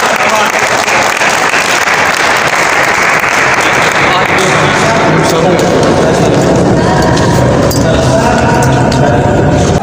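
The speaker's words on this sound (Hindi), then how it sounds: "भरपूर तालियों में मैम राबिया" A hall full of people gives dense, loud, continuous clapping at an award ceremony for female archers, sustained without pause throughout.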